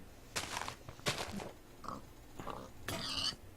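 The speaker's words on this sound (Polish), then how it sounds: "Świnie słyszę, przyda się." Pigs in the video game Minecraft with the Tekkit modpack give several short, faint oinks and grunts, spaced apart with quiet gaps between them.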